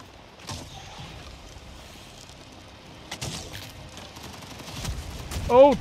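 Explosions and rapid gunfire crack and thud through the Avatar Frontiers of Pandora game on the Great Plains near RDA drill sites, scattered bursts growing louder toward a heavy blast at the end.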